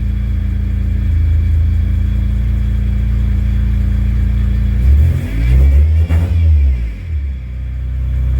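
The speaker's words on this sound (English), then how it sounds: "It's idling." Car engine idling steadily after a fuel pump replacement, then revving up sharply once and settling back to idle, close and loud with no talk.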